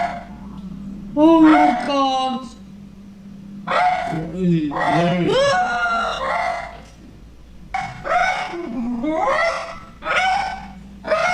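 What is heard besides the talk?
dogs barking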